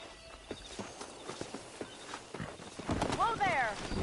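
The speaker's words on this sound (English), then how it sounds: "That ranch hand said there's a pack of wild horses nearby." Wild horses in a Western open-world game, hooves clip-clopping in an uneven rhythm at moderate distance, then a neigh near the end, all under steady outdoor ambience, with voices present.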